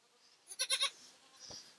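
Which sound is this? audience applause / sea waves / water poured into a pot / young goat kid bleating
young goat kid bleating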